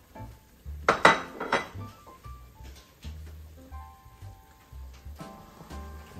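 Sausage dropped into a pan while cooking broccoli rabe with pancetta: a burst of metallic clatter and clinks from the pan and utensils near the start, then quieter low rumbling and light kitchen handling.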